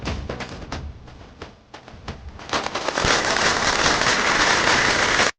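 A juice-bottle shaped firecracker bursts loudly up close, first a string of sharp crackling pops, then a sustained dense hissing fizz that continues without a break.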